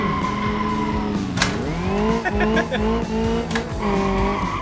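A circuit car drifts in the BeamNG driving game, engine revving loudly with long wavering tire squeals and skidding throughout, while people talk over it.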